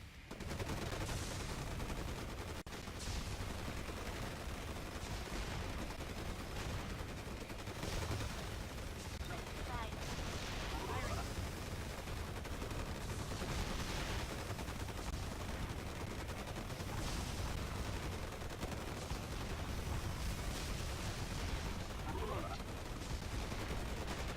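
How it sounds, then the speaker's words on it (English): Dense, continuous battlefield gunfire and explosive artillery barrages from an RTS game, Forged Battalion, rumbling steadily throughout at a loud, even level with a faint voice occasionally underneath. "The artillery spam."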